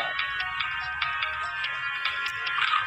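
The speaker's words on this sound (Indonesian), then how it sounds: "Sudah dapat notifikasi agar kita makan ikan kuningnya" A fish-eating video game plays a sustained electronic notification jingle, a steady tonal ringtone-like sound with light rhythmic pulses, loud and clear throughout with no talk.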